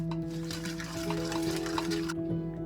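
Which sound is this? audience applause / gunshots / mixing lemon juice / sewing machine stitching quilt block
mixing lemon juice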